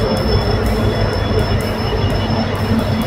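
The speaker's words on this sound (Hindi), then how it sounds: "देखिए, वहाँ एक ट्रेन जा भी रही है" A train rolls past a railway platform, a steady loud rumble of wheels on rails with faint metallic squeal throughout, no voices over it.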